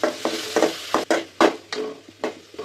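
Chopped native tomatoes, added to onions in a pan for a green gram side dish, sizzle softly while a spoon scrapes and stirs in irregular, close strokes.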